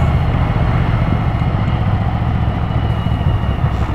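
A V-twin motorcycle engine runs steadily with a constant, throaty rumble and no gaps or revving changes, heard alone without talk.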